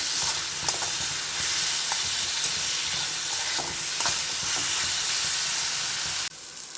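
Prawns frying in a spice paste, a dense, loud hissing sizzle with scattered scrapes of a stirring spoon, continuous until the level drops abruptly near the end.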